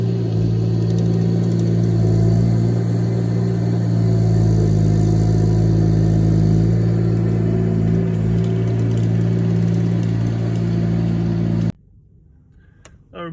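An ASV RT25 compact track loader engine runs with a steady, loud, low droning rumble that holds for about twelve seconds, then cuts off abruptly into near silence.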